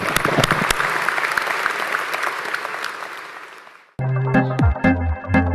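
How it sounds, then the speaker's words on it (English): Graduation ceremony audience at Swinburne University of Technology applauding, loud dense clapping that gradually fades out over about four seconds, followed by a different tonal sound. "Let me be the first to applaud what it is that you have done today"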